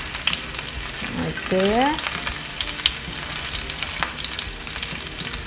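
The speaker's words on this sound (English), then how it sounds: "our oil is now hot, so we're going to put the garlic first" Garlic frying in hot olive oil for a Filipino fish escabeche, a steady close sizzle with brief stirring scrapes and a short voice-like tone partway through; a few words are spoken quietly.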